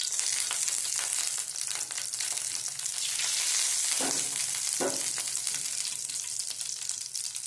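Mustard seeds and cumin sizzle in hot oil for a Gujarati bottle gourd peel chutney, a loud, continuous hiss with a couple of brief clinks or stirring knocks midway, and no voice.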